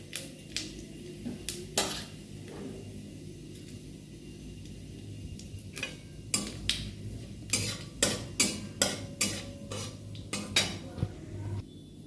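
Cumin seeds frying lightly in a pan, heard as a quiet low background sizzle. Frequent sharp metal clinks of a spoon stirring against the pan break through it, clustering into a rapid run near the end.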